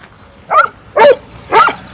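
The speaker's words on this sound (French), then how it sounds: "Regarde, le chien nous applaudit." Dog on a forest mountaintop barks three times in an even rhythm, close and loud, with quiet background between barks.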